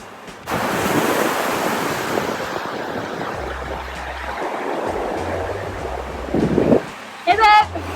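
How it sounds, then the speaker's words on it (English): Ocean surf rolls and crashes at Wilmington beach, a loud continuous wash of waves with heavy wind buffeting the microphone, and a voice briefly heard near the end. "These are like huge waves."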